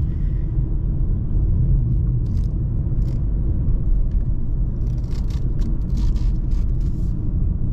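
A car pulls up a steep grade, its low engine rumble and road noise steady and close for several seconds, with light clicks and rattles scattered on top.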